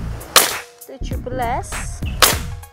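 Several sharp shots from a Mouser OD 32 Klasik PCP air rifle, spaced apart as separate cracks, with a man counting aloud in Indonesian between them.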